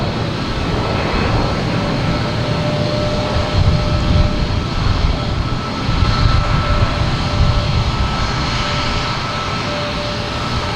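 Airliner taking off from Boston Logan bound for Columbus, a loud sustained engine roar and rumble with a faint whine, swelling slightly midway, with no talking.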